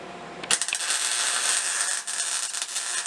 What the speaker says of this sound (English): You can run across and weld the whole thing.